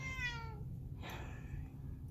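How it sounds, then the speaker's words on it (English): A house cat lets out a clear drawn-out meow, followed by a shorter second call, over a low steady background hum in a quiet indoor craft space. "And there's my cat."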